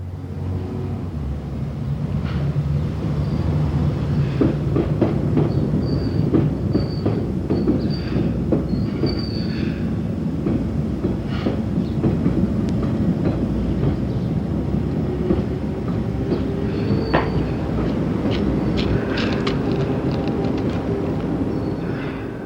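London Underground trains rumble past at South Ealing in 1988, a long continuous roll of wheels with clicking rail joints and occasional squeals, fairly close and steady throughout.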